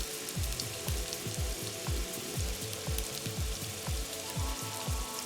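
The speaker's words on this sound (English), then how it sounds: "Then sear the fat cap for 2 minutes." Meat's fat cap sears in a Presto foldaway electric skillet, a steady dense sizzle and crackle with faint popping, continuous and fairly soft throughout.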